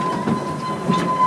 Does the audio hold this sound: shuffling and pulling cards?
no